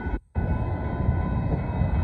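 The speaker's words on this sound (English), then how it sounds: "The freight train is on the line." Freight train passing, a loud continuous rumbling roar with a steady hum that stays close and constant after a brief gap at the start, with no talk.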